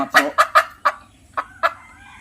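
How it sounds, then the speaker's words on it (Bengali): White Turkish Sultan chicken chicks give a run of six short, loud peeping calls, four quick ones close together and then two more after a pause, heard alone and near. "এটা হচ্ছে আমাদের হোয়াইট তুর্কি সুলতান, খুবই সুন্দর।"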